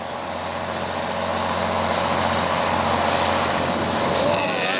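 A tractor-pull tractor with a 414 cubic inch, 140 PTO horsepower engine at about 2100 RPM roars down the track in the 22,000 lb class at Grand River, a loud sustained drone that swells gradually, with voices faintly underneath.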